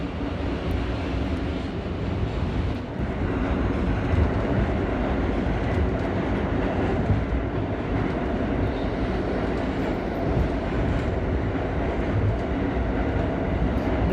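An R38 subway car on the A train runs between stations with a steady, loud rumble and rattle of wheels on track, continuous and broadband for the whole stretch with no talking.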